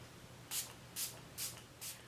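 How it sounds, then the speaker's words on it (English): Four short, airy spray bursts from an aerosol makeup setting spray, evenly spaced about half a second apart, close and fairly quiet against a soft background hum. "I'm just going to do one last spritz of the setting spray."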